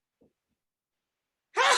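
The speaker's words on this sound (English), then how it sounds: "We were so stunned, we just had a sneeze." A single sharp sneeze bursts out abruptly at the end after near silence.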